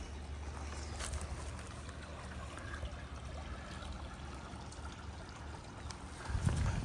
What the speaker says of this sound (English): So if you've had a long day, you can just come and listen to the creek.